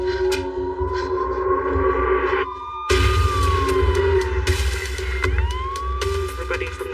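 An ambulance siren wails through a neighborhood street, its pitch sweeping up and down over a heavy low rumble of traffic or engine noise, loud and sustained with sharp breaks in the sound.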